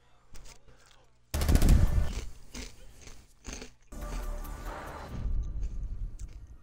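Gunfire in the video game Rainbow Six Siege, loud bursts of rapid shots that start abruptly and return after a brief pause, close and harsh, with a voice talking briefly between them.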